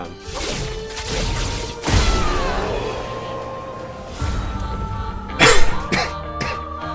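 A few sharp coughs and throat-clearing bursts, close by and loud, separated by short pauses with some rustling in between.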